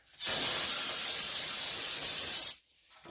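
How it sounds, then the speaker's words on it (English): A single continuous blast of brake cleaner aerosol is sprayed onto the engine of a Cub Cadet LT1045 20 horsepower riding lawn mower. The loud, even hiss lasts about two seconds and stops abruptly. "I just take brake cleaner to clean the oil and everything off"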